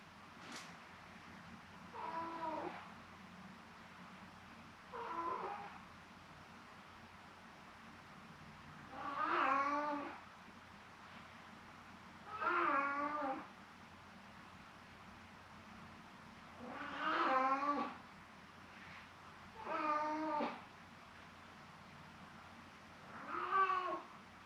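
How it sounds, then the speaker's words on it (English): A house cat meowing in repeated drawn-out calls, about seven of them spaced a few seconds apart, moderately close over a quiet low hum. "Usually if he's near me and he meows like this, I give him a belly rub and he starts purring."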